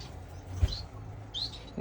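Small finches in an indoor bird room give a few soft, high chirps, one brief call near the start and another a second later, over a low steady hum.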